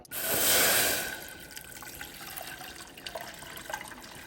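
Water is poured into a pot of toasted spices, a loud gushing splash for about a second that fades into quieter trickling, bubbling and small drips.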